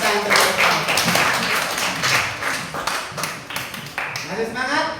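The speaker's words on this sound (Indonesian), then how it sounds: "Tepuk tangan." An audience in a classroom or workshop session clapping hands, a loose patter of claps that swells and fades over a few seconds, mixed with a voice talking over it.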